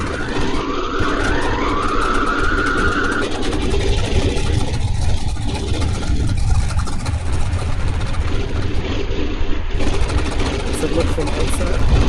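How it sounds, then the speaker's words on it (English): Twin radial engines of a DC-3 in the FlightGear flight simulator rumble steadily after starting, a loud, constant engine drone with a brief rising tone near the start and no clear speech. "Both engines are running."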